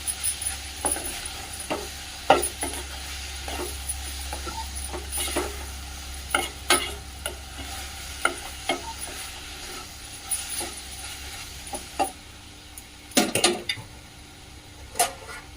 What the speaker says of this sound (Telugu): మళ్ళీ కలుపుతూనే ఉండాలి. ఇది కింద అడుగంటుతుందండి.